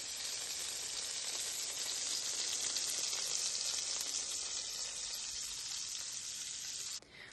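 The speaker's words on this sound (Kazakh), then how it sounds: "котлеттерімізді керегінше кішкене қызартып қуырып аламыз" Chicken cutlets fry in a pan with a continuous, even sizzle that holds steady close up throughout, with no talking.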